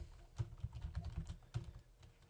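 Quick, soft keystrokes clatter on a computer keyboard in an irregular typing rhythm, close and fairly quiet, with no voices.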